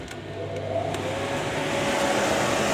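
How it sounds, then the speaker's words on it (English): Workshop extraction fan and vacuum running together as a steady broadband whoosh and hum, close and continuous, with a faint tonal whine and no talk. "I think we can fire up the air and the vacuum and get this happening."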